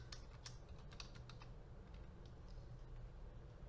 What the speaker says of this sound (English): you can type mathematics slip test